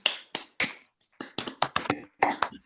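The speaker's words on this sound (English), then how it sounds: "please join me in a big round of applause" Scattered applause at an online research conference, a few hands clapping in short irregular bursts with gaps between them, faint and close, with no voices.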